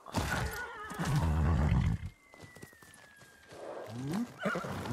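A horse in the video game Ghost of Tsushima neighs loudly and close, a long whinny followed by snorts and further shorter whinnies.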